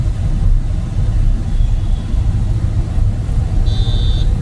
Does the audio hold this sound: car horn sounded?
yes